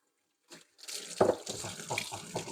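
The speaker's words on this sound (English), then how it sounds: "I'll wash my hands. I've got sausage all over them." Hands are washed under a running kitchen tap after handling sausage, with a steady, fairly close stream of water and intermittent splashes as the hands move.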